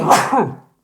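A single loud, close sneeze from an adult during casual conversation, a sharp burst followed by a short trailing vocal exhale and then silence.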